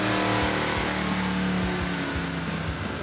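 The 1973 Buick Century restomod's engine is revving hard on a dyno, a loud, steady, deep growl with rising and falling pitch that fills the whole short stretch, with no talking.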